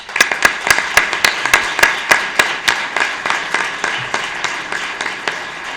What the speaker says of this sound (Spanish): A todos un fuerte aplauso.